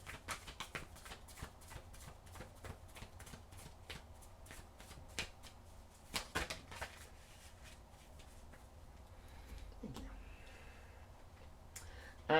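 A deck of oracle cards is shuffled by hand, giving a close, quiet run of soft riffling flicks and taps in an uneven rhythm.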